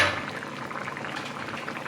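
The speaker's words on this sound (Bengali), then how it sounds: "আর একটু ভালো করে আমি ফুটিয়ে নেব।" A pot of shukto, a Bengali vegetable curry, bubbles on the stove with a steady, close simmering fizz and soft popping for a couple of seconds, no voices.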